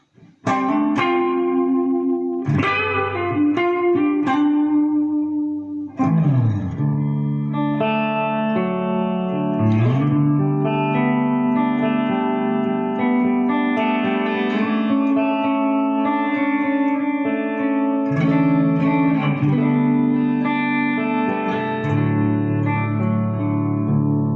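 An electric guitar plays through a Bugera 333XL Infinium 120-watt three-channel valve amp with the reverb set high, loud strummed and sustained chords ringing out with heavy, lingering reverb tails.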